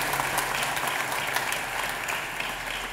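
A church congregation applauds during a Sunday worship service, steady continuous clapping filling the sanctuary at moderate loudness, with a faint low hum beneath and no talking.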